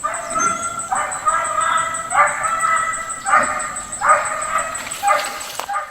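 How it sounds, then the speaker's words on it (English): Police canine squad dogs bark in a regular series of loud, close barks about a second apart, with a thin, steady high whine running underneath throughout. "you can hear the barks there"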